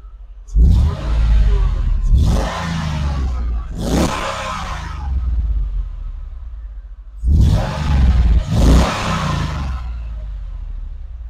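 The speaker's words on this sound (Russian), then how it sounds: "послушаем с вами действительно рев мотора данного автомобиля" A Mercedes-Benz W124 E5.5 AMG engine roars loudly up close in a Dubai dealership, revved in two bursts: two quick throttle blips with a sustained rumble between, a lull, then two more sharp revs settling into a steady idle.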